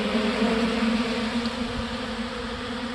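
Honeybees feeding at a cheap DIY pollen feeder staked in a bee yard, a steady continuous buzzing hum of many insects nearby, unbroken by talk throughout.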